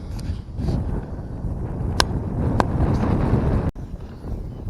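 Steady wind buffets the microphone in a low, rumbling roar beside a fishing pond, with a couple of faint clicks and no talking.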